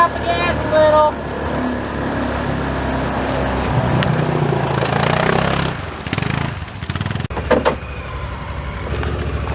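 A Ranger utility vehicle drives through water, its engine droning and churning loudly for several seconds before dropping off and picking up again in short bursts, with voices nearby.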